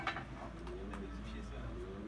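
Tumbler pigeons in a backyard coop give soft, low cooing calls, faint and close, alongside light clinks and a voice talking nearby.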